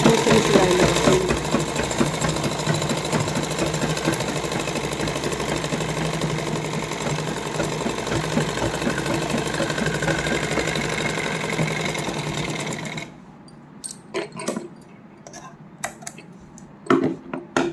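A sewing machine stitches the inner lining of a heavily hand-embellished suit, humming steadily and close for about thirteen seconds before cutting out, followed by a few faint handling clicks.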